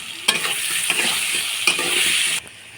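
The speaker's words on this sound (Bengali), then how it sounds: "পেঁয়াজ কেটে রেখেছিলাম, ওগুলো এখন দিয়ে দেব ভাজা ভাজা করার জন্য" Chopped onions sizzle in a hot pan while a utensil stirs them, giving a steady close frying hiss broken by sharp scraping clacks against the pan.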